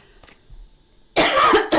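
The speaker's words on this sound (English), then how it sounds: "I still have a cough." One person gives a sudden, forceful cough, a harsh close burst after a quiet stretch, trailing into a second short hack.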